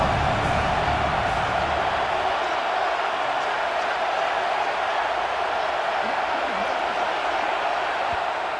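Stadium crowd roar from EA Sports College Football 26, a steady broadband wash of cheering fans at Autzen Stadium during a Penn State third down, loud and continuous throughout.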